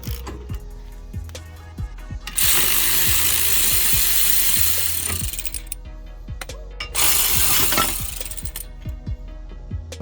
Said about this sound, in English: I can continue using my electric ratchet or impact